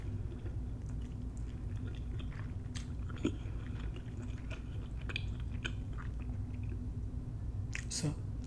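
Close-up biting and chewing of Jamaican oxtails and steamed cabbage, soft wet mouth sounds and small crunches over a steady low background hum.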